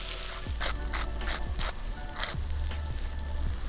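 Eggplant slices frying in hot oil, a constant crackling sizzle with repeated bursts of louder spitting and low thumps as pieces are moved, fairly close, no voices.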